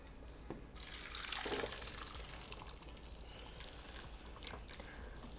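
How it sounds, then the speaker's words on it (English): Cooked beans are drained, their seasoned cooking liquid pouring out in a sudden, steady gush that runs continuously at close range without any talking. "So I'm gonna drain these beans"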